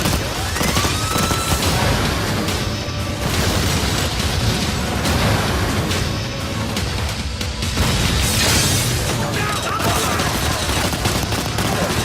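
A bomb detonating amid gunfire in the Ghost Recon: Future Soldier video game, with a loud, continuous wash of blasts and shots that rumbles throughout and swells toward the end.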